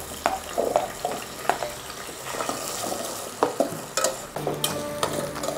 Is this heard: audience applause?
no